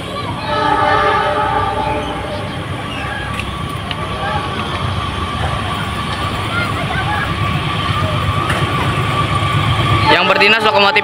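A CC 206 locomotive runs past a switch at Depok, its loud rolling rumble and horn filling the scene with people talking nearby, ending in a sharper burst of clatter.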